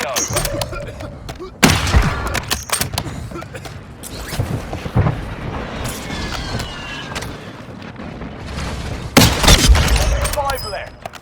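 Gunfire bursts and heavy explosion booms from an airstrike in the battle royale video game Warzone, with two loud blasts and scattered shots and impacts in between, no talking.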